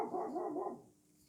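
A dog gives a short burst of barking nearby, loud and clustered over about a second, then breaks off into quiet, with no talking.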